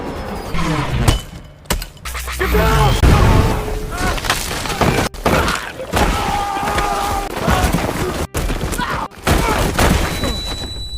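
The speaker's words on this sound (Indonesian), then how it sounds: "Mesin tersebut melakukan pemindaian lalu menyerang mereka dengan tembakan yang sangat brutal." A mysterious war machine in the film War Machine opens fire in a brutal barrage, with loud booming shots, crashes and impacts over a dense, chaotic action soundtrack, with narration running through it.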